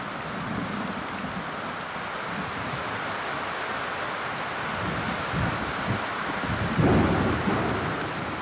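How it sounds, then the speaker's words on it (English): Isolated thunderstorm over a South American river habitat, heavy rain pouring steadily with a low rumble of thunder building and a louder crack near the end. "This is an isolated storm"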